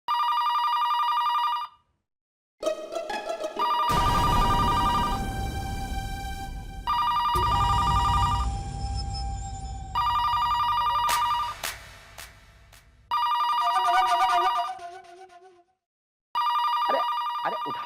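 A telephone rings loudly and repeatedly in a Hindi police-station drama scene, the electronic ring sounding in regular bursts separated by brief pauses, with loud dialogue and music layered between the rings.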